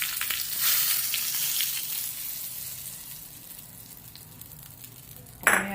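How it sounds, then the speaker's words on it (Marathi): A hot ghee and cumin tempering is poured over a chutney for a fasting recipe, giving a close sizzle that fades gradually before a brief clatter at the end; no talk. "आता आपण ही फोडणी आपल्या चटणीवर ओतूया"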